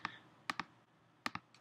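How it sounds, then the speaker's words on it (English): A computer keyboard's delete key is pressed in quick double clicks, two crisp pairs of faint, close taps separated by a short quiet gap. "highlight it and delete it with your delete key on the keyboard"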